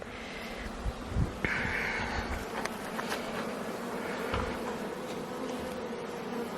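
Honeybees buzz around an open hive during an inspection, a steady close swarm drone with brief louder passes near the microphone and light wind rumble beneath.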